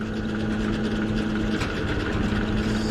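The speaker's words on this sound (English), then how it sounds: "950's just idling about as low as it goes." A Minneapolis Moline 950 tractor engine idles as low as it goes, a steady close rumble with an even hum and no voices.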